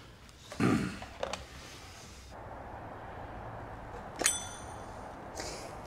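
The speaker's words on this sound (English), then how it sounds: "If you ping that silly bell one more time" A small bell pinged with a bright metallic ding that rings out briefly, heard once clearly near the end over a steady low background hum, with faint knocks earlier.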